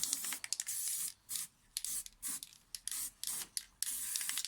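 Armorite silver paint sprayed from an aerosol can onto parts of a Ford Focus ST170 track car, in a quick series of short hissing bursts with brief gaps, close and fairly quiet, with no talking.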